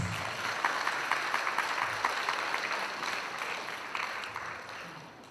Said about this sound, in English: Can we just give them an applause?